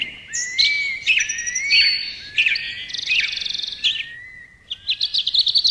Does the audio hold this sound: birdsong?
yes